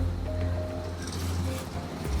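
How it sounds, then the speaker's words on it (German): Steady, rumbling wind buffets outdoors, a low roar with gusts that swell and ease throughout, with no voices. "aber es ist sehr windig"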